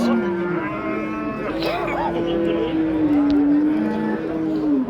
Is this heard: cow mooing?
yes